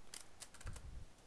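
Quiet computer keyboard typing, a short run of soft key clicks tapped in quick succession, faint and close.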